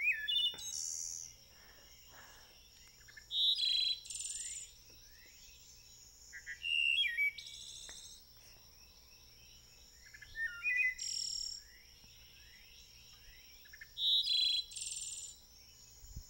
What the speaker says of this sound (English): That's the song of the wood thrush